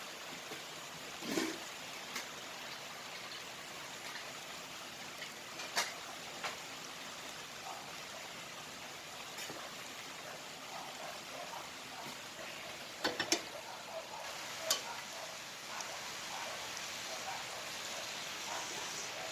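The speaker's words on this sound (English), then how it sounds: "I'm now going to add the juice that the beef was cooked in. Slowly." Beef cooking juice is poured slowly into curry paste of white onion and garlic in a pan, giving a steady soft hissing sizzle with a few faint clinks and pops.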